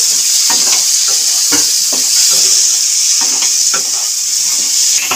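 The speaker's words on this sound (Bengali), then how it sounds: "বেগুনটাকে দিয়ে একটুখানি কষিয়ে নেব" Eggplant sautéing in a loud, dense spice mixture for a fish-head chhyachra, a constant bright sizzle with repeated soft scraping strokes of a spatula against the pan.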